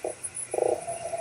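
Frog croaking in the video game Fran Bow: a brief croak at the start, then a longer, drawn-out croak that trails off, close and clear with no talk.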